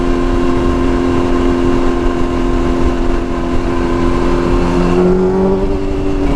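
A motorcycle with a broken fairing drones steadily while riding, a continuous close engine hum with a slight pitch shift near the end.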